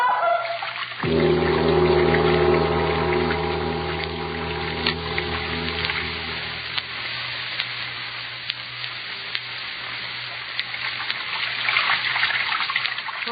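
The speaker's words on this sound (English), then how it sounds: "Sound of water so loud." Steady rushing water runs throughout, loud and continuous, with a low droning tone under it for the first several seconds.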